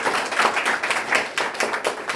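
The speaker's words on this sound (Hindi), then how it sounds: "इनके लिए भी ताली रुकनी नहीं चाहिए।" An audience applauds a top-scoring student at an award ceremony, a burst of close, uneven hand claps rising and falling in quick waves.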